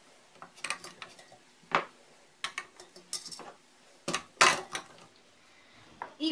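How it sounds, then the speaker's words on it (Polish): Glass jars are set into a metal pot lined with a cloth, clinking and knocking in a series of irregular sharp taps, some louder than others, with quiet pauses between. "Wkładam teraz do garnka słoiki."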